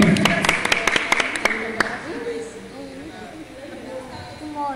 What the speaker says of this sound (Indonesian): Tepuk tangan buat baca mahasiswa